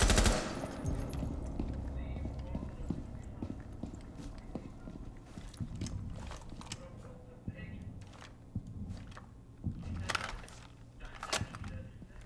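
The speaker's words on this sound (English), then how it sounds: "Just got hit by a shotgun?" Gunfire in the tactical shooter Rainbow Six Siege, with repeated sharp shots and bursts popping through steady game ambience, moderately loud over low background noise.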